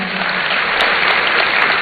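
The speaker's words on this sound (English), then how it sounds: "Another round of applause for him, ladies and gentlemen." Steady, loud applause fills the hall at the launch ceremony of a student entrepreneurship and enterprise development programme, a dense unbroken patter of many hands throughout the short stretch.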